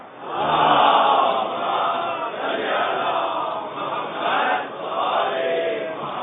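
A large Muharram majlis congregation recites salawat aloud in unison, a dense swelling roar of many voices rising and falling in waves, loud and continuous across the whole stretch.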